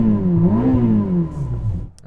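A Ferrari SF90 engine revs up and winds back down, a loud close-up roar rising and falling in pitch.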